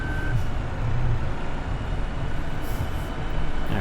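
Vehicle reversing beeps in Farming Simulator 2015 as a vehicle backs out near a van and trailer, a faint repeating tone under a steady rumbling engine drone with a hiss at the end.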